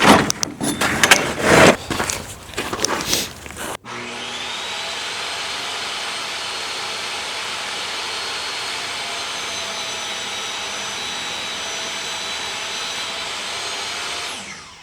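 A table saw is set up with a few seconds of clattering and knocking, then the motor whines steadily and loudly for about ten seconds before cutting off.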